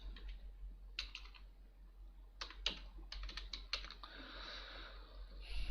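Keys tapped on a computer keyboard while entering text into a shape in MS Word, sparse clusters of quiet clicks over a faint background hum with no talking.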